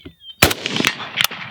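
Rifle shots fired at a target ring out loud and close, one sharp crack followed by several more bursts with echoing tails over about a second and a half.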